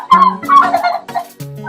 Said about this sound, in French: ces dindons-là sont nombreux.